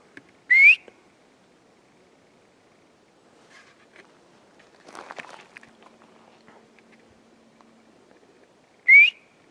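Two short, clear rising whistles in quiet woods in Colorado, one near the start and one near the end, with faint footsteps and rustling in between.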